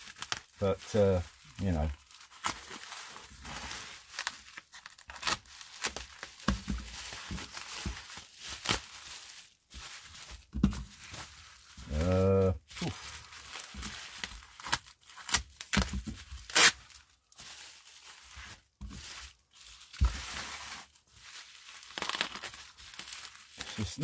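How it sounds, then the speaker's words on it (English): Bubble wrap packaging is peeled and unwrapped from around a 78rpm shellac record, crinkling and tearing in close bursts through the clip while someone talks over it. "So now we've got the this bubble wrap, which, to be honest, isn't really doing anything, this bubble wrap."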